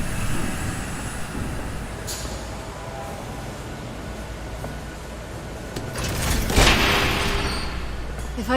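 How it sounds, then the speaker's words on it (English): Train rumbling past in the Batman Telltale Series video game, a steady low roar throughout that swells louder near the end, with speech over it. "There's a train coming."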